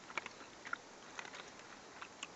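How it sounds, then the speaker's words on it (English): Edible inner tree bark is chewed close up, soft crunchy bites and mastication sounds repeating irregularly at low volume. "Chews right up now."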